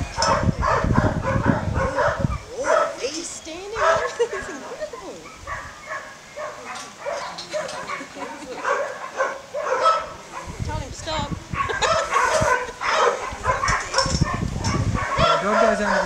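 Herding dog barking and yipping in repeated bursts outdoors among sheep, loud and close at times, while a handler calls out commands throughout.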